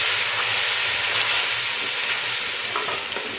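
Fresh spinach sizzles steadily in a hot pan while being stirred, a continuous close frying hiss with soft scraping movements and no talking.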